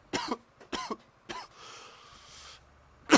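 One person coughs from the trachea, close to the mic, in three sharp bursts. A softer throat-clearing rasp follows, and another cough starts at the very end.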